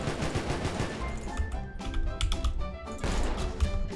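Rapid, dense bursts of shotgun fire crack over a busy, noisy Roblox game soundtrack, with sharp transients clustered throughout and no talking.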